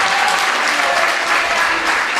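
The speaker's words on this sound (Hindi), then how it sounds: "एक बार जोरदार तालियों से पूरी टीम के लिए।" Loud, dense applause from an audience at a parenting workshop retreat, steady clapping from many hands throughout the short burst, with faint crowd murmur.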